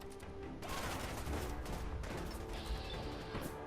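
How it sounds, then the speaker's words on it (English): A nuke launcher fires in the Fallout 4 Nuka World game, a sudden heavy blast that swells into a sustained roaring, crackling rumble with scattered debris-like bangs. "So yeah, let's use the nuke launcher."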